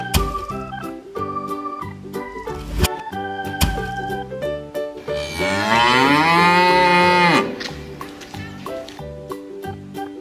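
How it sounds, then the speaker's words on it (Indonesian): A cow gives one long, loud, drawn-out moo in the middle of a bright children's tune, standing out clearly over the music for about two seconds. "Cow."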